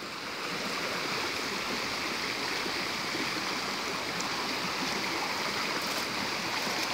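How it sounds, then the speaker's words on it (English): Flowing water at Bath Fountain, a mineral spring in Jamaica, a steady broadband rush like a stream or small fall, close and unbroken, with no talking. "While you're being massaged there, you could hear this water that relaxes the body."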